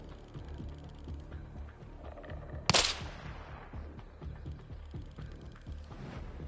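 A single sharp rifle shot from a bolt-action rifle cracks out loud and close amid steady outdoor background noise, its report ringing and decaying over about a second.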